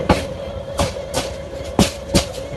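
A train running in the Train Simulator Bangladesh mobile game: sharp, rhythmic rail clacks arrive in irregular pairs over a steady, humming engine drone. No voices are present.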